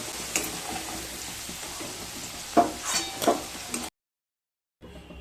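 Potatoes fry in hot oil in a pan while being stirred. The sizzle is steady and close, with scraping stir sounds, then a short silence and a quieter return.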